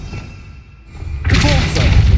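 Accio summoning spell effect in the video game Hogwarts Legacy: a quiet lull breaks into a sudden loud whooshing burst with a thud, sustained to the end.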